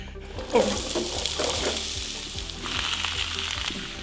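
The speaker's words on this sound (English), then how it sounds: "I've seasoned the meat a little bit so it'll tenderize. All I've got to do is brown it" Seasoned meat browns in a hot pan with a loud, steady sizzle close by, punctuated by occasional stirring clicks and scrapes.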